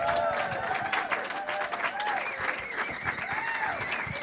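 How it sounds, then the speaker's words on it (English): Opening-night theater audience applauding, steady dense clapping with crowd cheers and whoops rising over it, fairly close and sustained. "give it all a big round of applause to start"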